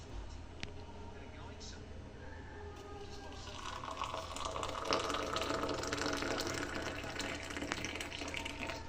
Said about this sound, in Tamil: இந்த கிளாஸ்லேயே கொஞ்சம் தேயிலையை போட்டு சுடு தண்ணியும் ஊற்றியாச்சு